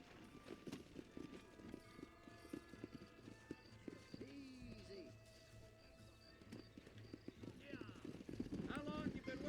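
Horses trotting in the video game Red Dead Redemption, a quiet rhythmic clip-clop of hooves with an occasional whinny, set under in-game dialogue and ambient game sounds.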